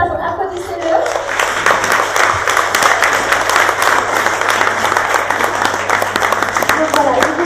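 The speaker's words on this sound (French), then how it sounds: "donc applaudissez-le." An audience at a university cultural festival claps steadily for several seconds, dense, loud applause with voices mixed in.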